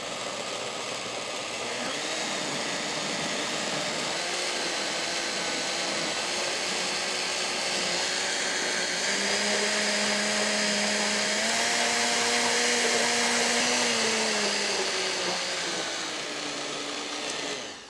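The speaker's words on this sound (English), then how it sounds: "always start your blender on low" A blender purees soup, whirring loudly and steadily for a long stretch, its motor pitch shifting slightly as it churns, with no talking.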